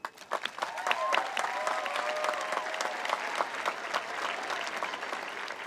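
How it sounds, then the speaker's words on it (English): Graduation ceremony audience clapping, a sustained round of applause from a sizable crowd in a hall, dense and even, tapering slightly toward the end. "So please help me and thank them with a round of applause."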